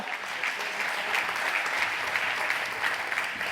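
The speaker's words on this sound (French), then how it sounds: "on peut vous applaudir une nouvelle fois, Arnaud et toute l'équipe" An audience at an eco-activities award ceremony applauds steadily, a dense, even wash of many hands clapping throughout, loud and close, with no pauses.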